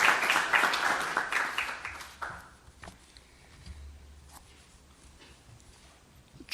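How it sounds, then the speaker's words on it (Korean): Brief burst of clapping from a meeting audience welcoming an outside guest, a KAIST green growth graduate school dean, at a government meeting. The applause is dense for about two seconds, then thins quickly into quiet room noise. "자, 박수로 환영합시다."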